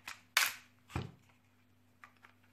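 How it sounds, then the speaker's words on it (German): Airsoft Glock 17 Gen 3 pistol firing a few sharp, separate snaps at close range, with quieter clicks after them, in a quiet room. "Ihr müsst wirklich halt komplett den Abzug und dann könnt ihr schießen, ja?"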